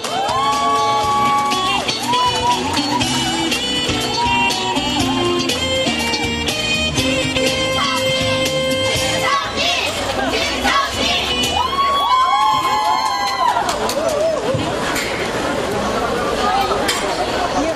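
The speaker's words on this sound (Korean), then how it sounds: "박수로 맞이해주십시오" A large outdoor rally crowd in Daegu, gathered to protest illegal election interference by the National Intelligence Service, cheers and shouts loudly and continuously, with whoops, raised voices and applause rising and falling throughout.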